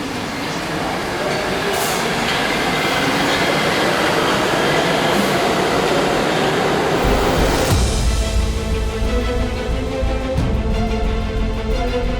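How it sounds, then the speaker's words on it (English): A train rumbles past loudly and steadily, a broad roaring wash of noise that deepens and thickens near the end. "this train's gonna take off again and you're not gonna be able to hear me again"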